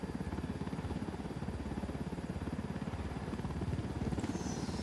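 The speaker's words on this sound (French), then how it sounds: "On va poser l'hélico ici." A helicopter landing in the video game Ghost Recon Wildlands gives a steady, loud rotor chop, dense and continuous throughout with no voices.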